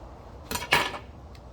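Knife cutting a few quick slices through a soft avocado on a board, two short close crisp cuts with a faint third tap, in a quiet kitchen for tortilla tacos.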